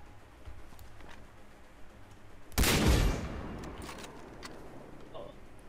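Far Cry 3 gunfire: one loud, close burst of rapid shots midway through, with softer noise before and after, and a voice speaking in the background.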